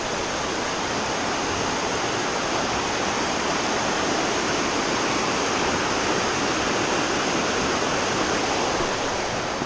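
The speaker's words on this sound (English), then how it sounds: "Beautiful Forney Creek." Forney Creek in the Great Smoky Mountains rushing steadily, a loud, continuous broadband roar of flowing water with no voices, unchanging throughout.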